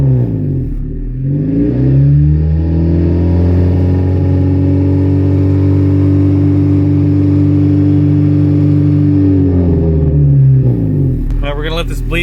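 Honda Civic EF converted from automatic to manual, its engine droning loud and steady as the car drives along, revving up at the start and easing off near the end.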